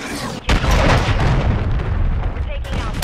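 A cruise missile strike explodes in Call of Duty Modern Warfare 3 multiplayer, a sudden loud boom with a rumbling, crackling blast that sustains over the rest of the moment under a voice.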